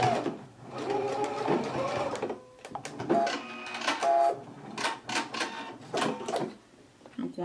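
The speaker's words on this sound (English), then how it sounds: "I'm going to begin stitching at 1/5 inch seam allowance." A sewing machine stitches fabric at a 1/5 inch seam allowance in bursts of rapid, close mechanical whirring, pausing and restarting several times with short backstitch runs.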